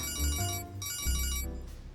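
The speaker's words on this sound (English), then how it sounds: "what a ringtone." A phone ringtone in the video game Persona 5 Royal plays as a bright repeating electronic melody over a steady low background tone, fairly loud, in two phrases with a short gap between them.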